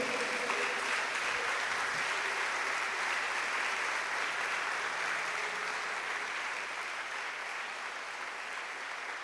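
A church congregation applauds during a worship service, a long, even wash of distant clapping that holds steady for over nine seconds without a break.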